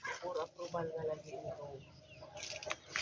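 A chicken, tied up in a Filipino home kitchen before being cooked into tinola, clucks in short bursts while people talk nearby, the bird's calls mixed with their voices.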